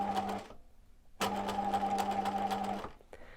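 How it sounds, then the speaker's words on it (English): A sewing machine runs a few reverse stitches through cotton fabric for a face covering, two close, steady bursts of fast mechanical whirring with a short pause between, loud and alone. "I'm just going to do a few stitches in reverse"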